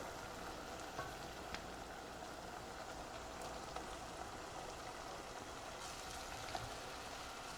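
Diced ham frying with lightly sauteed onions in a pan makes a dense, even crackle and hiss that runs unbroken throughout at a moderate level.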